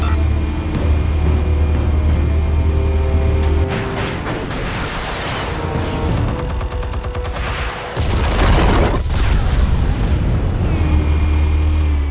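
Loud explosions from armed explosives in Batman: The Telltale Series, heavy booming blasts over a dense rumbling game soundtrack, with a sharp burst near four seconds and another near eight.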